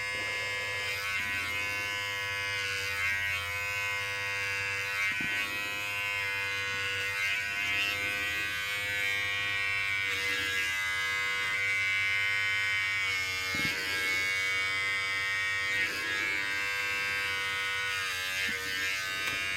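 Electric hair clippers run with a steady, close mechanical buzz during a self-haircut and beard trim, their pitch shifting slightly as the blades pass through hair, continuous for about twenty seconds with no speech.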